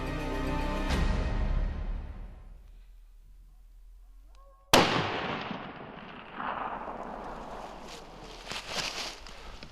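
A single sharp, loud rifle shot fired at an elk bull while hunting in southern Colorado, cracking suddenly and then rolling away in a long, fading echo across open terrain after a quieter stretch.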